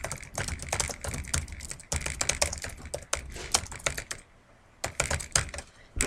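Rapid bursts of computer keyboard typing clatter close by, with quick uneven keystrokes, a brief pause, then another fast run of taps.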